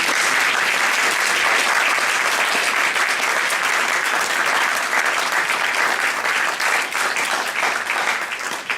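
An audience at the Ilkley Literature Festival 2018 gives sustained, dense applause, steady and loud throughout with many hands clapping together.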